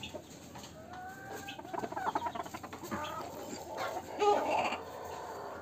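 Fancy chickens, among them a pair of black Silkies, clucking on a farm, with steady overlapping clucks, a few louder calls, and a constant background hum.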